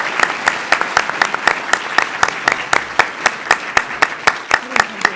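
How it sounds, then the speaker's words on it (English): An audience claps for a panel of presenters at a packaging-methods event, a fairly small crowd whose claps fall into a steady, almost unified rhythm, close and lively throughout. "I want to make sure we give them a round of applause"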